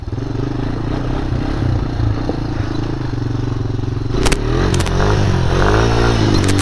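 A Honda 250EX ATV engine runs loud and close, after an oil change, with a steady throbbing idle rising into revving, and sharp clatters and scrapes partway through, with no talk.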